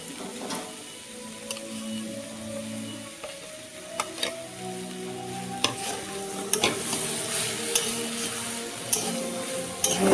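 Cauliflower stalk chachchari frying in a pan as a ground paste of mustard, green chilli and onion is stirred in: steady close sizzle with scraping spoon clicks and clatter, no talking.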